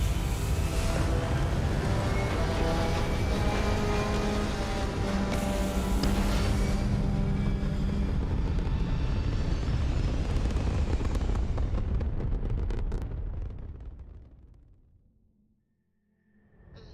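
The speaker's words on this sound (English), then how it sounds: "All thrusters firing." Spaceship thrusters in Starfield fire in a loud, dense, continuous roar that holds steady for about thirteen seconds before fading quickly to near silence.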